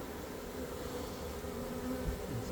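Honey bees drone around a hive after a swarm, a steady low buzzing hum close by that holds level and alone, with a few louder passes near the end.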